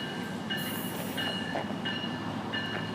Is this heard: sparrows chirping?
no